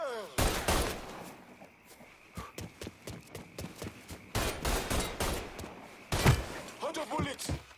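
Bursts and single shots of gunfire in Mafia 3 Definitive Edition, scattered irregularly through a tense firefight, with clusters of rapid cracks, one heavier blast and shouting voices between.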